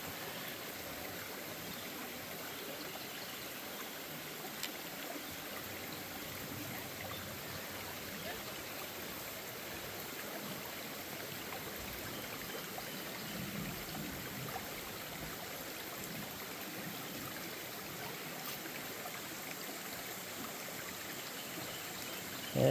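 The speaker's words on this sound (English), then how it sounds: "All right, another creek crossing." Creek water flows steadily at a trail crossing near a waterfall, a constant soft rushing and trickling that fills the background at moderate level.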